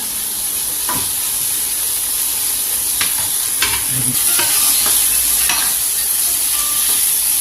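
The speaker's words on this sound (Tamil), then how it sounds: "இப்போ மீடியம் ஃப்ளேமில் வச்சு நல்லா அப்படியே நம்ம சிக்கனை கொஞ்சம் நேரம் அப்படியே வதக்கி விடணும்." Chicken fries in a kadai over a medium flame, a continuous close sizzle with a high hiss, broken by scattered scraping and clinking strokes of a utensil stirring the pieces.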